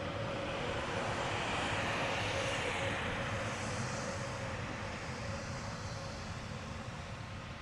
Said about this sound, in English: There we got the wave. Airbus A320 Neo.